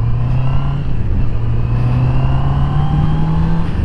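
Engine of a new 2021 Honda CB650R motorcycle with about 30 miles on it, 94 horsepower and a 12,000 rpm redline, droning loud and close in a steady, even rev that climbs slightly in pitch without a break.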